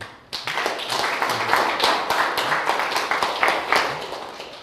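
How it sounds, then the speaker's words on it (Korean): A lecture audience gathered for a reading of the Analects gives each other a welcoming round of applause, dense continuous clapping starting abruptly and holding steady throughout. "서로 환영의 박수 한번 보내주시죠"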